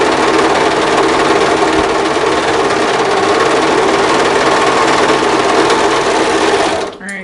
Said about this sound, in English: Sergers are loud though.